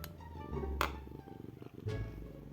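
A domestic cat lying on a lap purrs steadily and close up, a low continuous rumble with a rhythmic pulse that runs through the whole stretch without speech.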